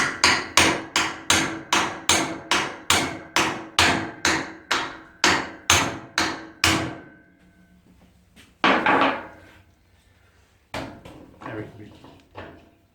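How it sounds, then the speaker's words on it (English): A hammer strikes a car CV joint repeatedly to free it, about fourteen loud, evenly spaced metallic whacks close by, followed by a pause and a couple of heavier isolated knocks. "I'm going to give it a whack and see if it comes off"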